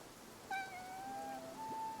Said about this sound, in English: Oh, I hear a cat.